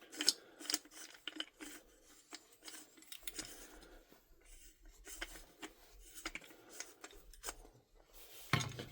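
Quiet close-up clicks, scrapes and small metallic rattles come from unscrewing and handling parts while taking apart a VMP2 airsoft gun, with irregular light taps throughout and a louder clatter at the end.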